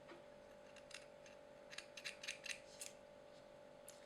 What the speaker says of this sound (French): On va couper le coton comme d'habitude